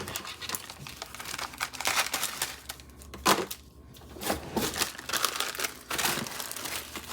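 Crinkling and tearing of a plastic food package as it is cut open at home, a close, busy run of crackles and rustles with a brief quiet pause midway.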